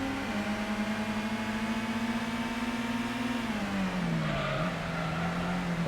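A race car in Gran Turismo 1 on the PS1 drones steadily at a held engine pitch, then the tone dips and shifts as the car slows or changes gear. No one speaks over it.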